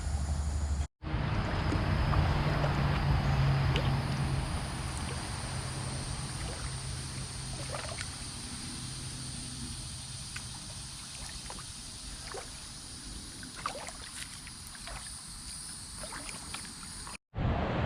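A small kayak moves down the low-water Black Creek, with soft, faint paddle splashes and dips at irregular intervals over a quiet outdoor background.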